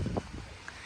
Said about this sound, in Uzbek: Ozgina shamol bor.